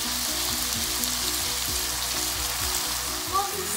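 Cherry tomatoes, garlic and chilli sizzle and crackle steadily in a hot pan with balsamic vinegar, a dense continuous frying hiss with soft scraping stirs, close and alone.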